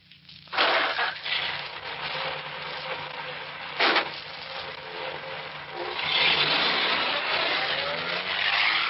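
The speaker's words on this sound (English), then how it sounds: "Start the car." Radio drama sound effect of a car engine starting and the vehicle pulling away, a sharp ignition burst followed by a steady running drone that swells as it drives off.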